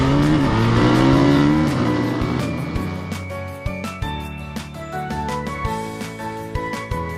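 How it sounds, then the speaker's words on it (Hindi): A cartoon scooter pulls up in a loud, close engine rush with revving, tonal drones and sharp hits on top, easing slightly toward the end. "तभी शॉन का स्कूटर वहां पहुंच गया।"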